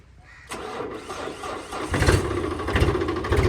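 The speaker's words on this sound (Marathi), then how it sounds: "आणि चालू करू ट्रॅक्टर" A Deutz-Fahr tractor's diesel engine cranks and catches, then rumbles louder as it revs up to a steady, rough running sound close by.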